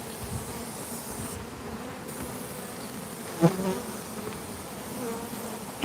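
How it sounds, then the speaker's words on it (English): Bees crawling on the ground beneath a fountain, their wings glued together, give off a steady close insect buzz throughout with a brief louder flutter midway. "So all these bees that you're looking at down here on the ground"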